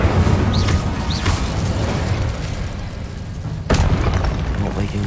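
Fiery Incendio spell blasts from Hogwarts Legacy, a near, loud booming burst at about 3.7 seconds rising over a dense, continuous bed of game combat noise with two brief whooshing swells earlier.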